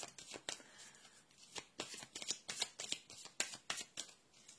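Playing cards shuffled close up, giving a rapid run of crisp riffling flicks and snaps at an uneven quick rhythm, fairly quiet, with no talking over it.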